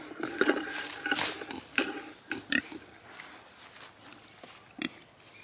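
Pigs on a small homestead munch on greens, giving scattered grunts and snuffling chomps at close range, irregular bursts over a quiet outdoor background.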